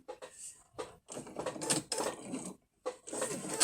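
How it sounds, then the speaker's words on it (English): A sewing machine with a walking foot stitches quilt binding along the edge in short bursts of rapid mechanical whirring, separated by brief pauses, close and clear. "I'm sewing right along the edge."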